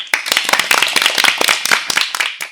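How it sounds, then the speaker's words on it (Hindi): An audience at a children's programme bursts into loud, lively applause after poems about yoga, many hands clapping densely and unevenly before tapering off. "एक बार जोरदार तालियां हो जाए"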